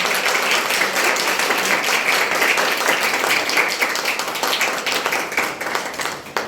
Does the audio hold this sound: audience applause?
yes